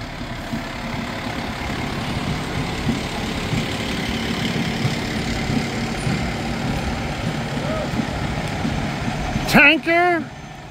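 A fire engine idles with a steady low rumble at a street parade for a fire department's anniversary, with crowd murmur around it. A short siren whoop sounds near the end.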